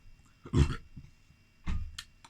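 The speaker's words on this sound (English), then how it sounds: "Tastes nice on the burp." A low, throaty burp after drinking Mikkeller Frederiksdal Trippelbock beer, heard close and fairly soft as two short grunting pulses with a brief pause between them.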